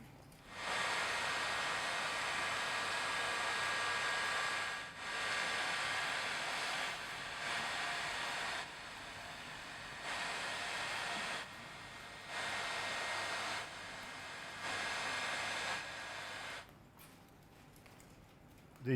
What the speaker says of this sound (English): we use a heat gun to remove the nylon braid